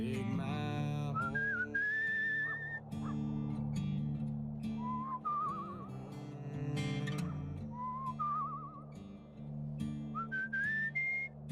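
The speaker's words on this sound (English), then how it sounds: "Still don't understand this whistling mechanic." Melodic whistling in the video game Where the Water Tastes Like Wine, rising and wavering phrases repeated several times over a low, steady musical drone, fairly close and clear.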